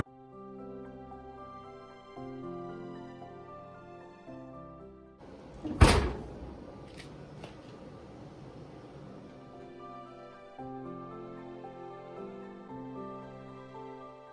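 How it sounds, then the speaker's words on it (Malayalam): A cake tin filled with carrot cake batter is tapped once on a counter, giving a single sharp, loud knock midway through, surrounded by soft background music. "നമുക്കിനി ഇതൊന്ന് ടാപ്പ് ചെയ്ത് കൊടുക്കാം."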